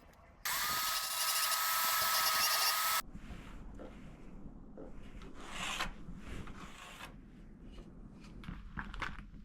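A handmade wooden seat has its corners smoothed with a power tool, a loud grinding burst lasting a few seconds, then quieter scraping and handling knocks follow.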